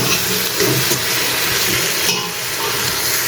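Spice paste sautéing and being stirred in a pan for a fish curry, a steady close sizzle with scraping stir strokes running throughout, no voices.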